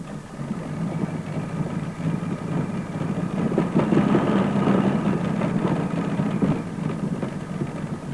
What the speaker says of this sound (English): an Allison propelled tractor. Single engine.